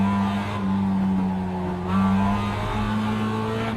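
A race car engine in the iRacing sim drones at a steady, loud pitch, easing up gradually with slight surges and dips in revs as the throttle is fed in.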